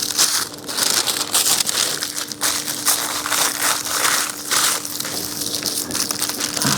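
Aluminium foil crinkles and crunches steadily as it is rubbed and released from a dollar store bowl. The rustling is close and loud and continues without a break.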